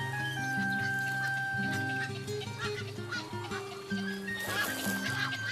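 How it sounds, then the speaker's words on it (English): Night heron chicks in a wetland nest call with busy, overlapping squawks and honking cries, loud and close, with other wetland birds mixed in. "The young of the night heron have already hatched."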